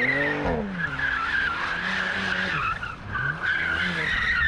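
Porsche Macan GTS sliding sideways with its tires skidding and squealing in long loud streaks, while the engine surges and revs underneath throughout.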